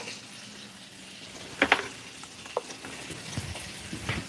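Onion goes into a pan for collard greens, giving a soft, low sizzle with a few sharp clicks and scrapes of a utensil against the pan, fairly quiet and close.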